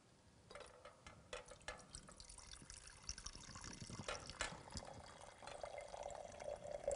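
A metal mass is lowered into water, with small splashes, drips and sloshing that build toward a fuller watery gurgle near the end, faint and close by.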